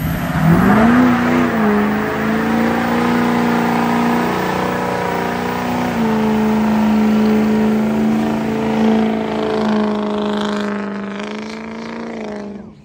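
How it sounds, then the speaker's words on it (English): A manual-transmission 5th gen Cummins diesel truck doing a burnout, its engine roaring loud and close at a high, steady pitch for over ten seconds before easing off. "That thing gonna do a burnout?"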